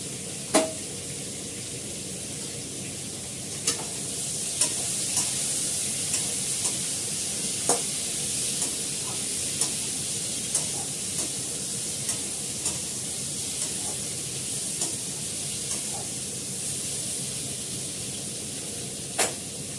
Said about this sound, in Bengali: দেখো পটলগুলো সুন্দর করে লাল করে ভেজে নিয়েছি।